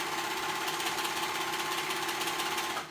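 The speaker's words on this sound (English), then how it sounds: "we're just gonna sew all the way around the whole band" A sewing machine stitching around a fabric band on a tank top armhole, running steadily with a continuous close mechanical whirr and rapid needle chatter, no voices.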